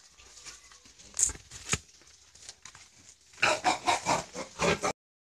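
Boar and sows at a piggery farm, a series of loud grunting oinks and snorts in quick rhythmic bursts close by, after scattered earlier squeals and movement noises.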